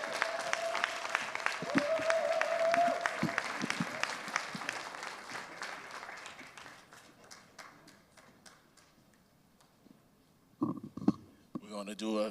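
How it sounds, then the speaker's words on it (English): Audience applause at a student summit presentation, a room of clapping that is strongest at first and gradually thins out, with a whistle-like tone early and a voice returning near the end. "Let's give him another round of applause."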